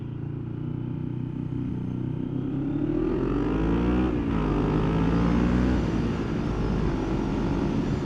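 A Yamaha Vmax motorcycle does a loud flyby, its engine note rising and swelling as it approaches, peaking as it passes, then holding a strong roar as it pulls away.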